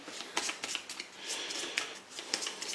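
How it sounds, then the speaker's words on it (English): Playing cards from the Pathfinder Adventure Card Game are shuffled back into a deck by hand, a quiet run of soft riffling flicks and rustles with a few sharper snaps, close and alone. "I'll just shuffle it in."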